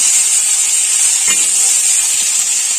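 Parboiled cauliflower is stirred and fried in a pan with turmeric and cumin powder, giving a steady, loud hiss of frying with one brief scrape of the stirring spoon.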